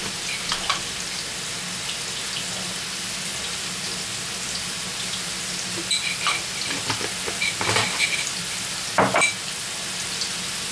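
Chicken pieces coated in black pepper, salt and spices fry in a pan with a steady close sizzle, broken by bursts of stirring scrapes and spattering pops toward the end, with no talking.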